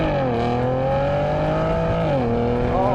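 A Porsche Macan GTS in Sport Plus accelerating hard, its engine note climbing steadily and loudly with one brief dip at a gear change before rising again, heard from inside the car.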